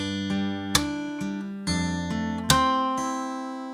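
Fingerstyle electric guitar plays a bar of a song in a flamenco-like chord progression: a handful of ringing plucked notes and chords struck one after another, clear and close, with no voice.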